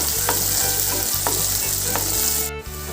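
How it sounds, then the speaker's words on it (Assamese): Onions fry in a pan for a local chicken curry, producing a loud, continuous close sizzle over a low hum, with a few soft stirring clicks. "এতিয়া পিঁয়াজটো কালাৰ চেঞ্জ হোৱালৈকে ভাজি ল'ম ভালকৈ।"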